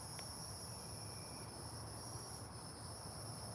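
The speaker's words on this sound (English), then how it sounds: "the crickets chirp for so long" Crickets chirping in a steady, continuous high trill at night, faint and distant with no other sounds.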